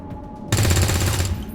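A soldier's weapon fires in XCOM 2 Long War 2, a sudden loud burst of rapid gunfire that rattles on for about three-quarters of a second before cutting off, with no talking over it.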